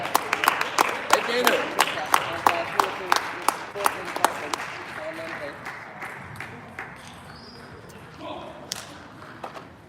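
Audience clapping in unison, sharp evenly spaced claps that ring out close and clear at first, then thin and fade away, with faint murmuring and voices afterward.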